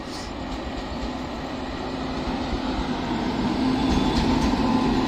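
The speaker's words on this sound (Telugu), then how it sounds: "సికింద్రాబాద్ నుంచి రాజ్కోట్ వెళ్ళే ట్రైన్ చూడండి ఇది ఇది కూడా ఎలక్ట్రిక్ ఇంజనే" An electric train running from Secunderabad to Rajkot comes in, a steady loud rumble of rolling wagons that swells slightly toward the end, with no voices over it.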